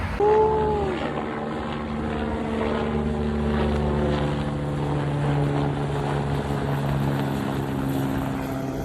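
Low, droning engine roar of an aircraft passing overhead, steady and fairly loud throughout with a deep rumbling hum.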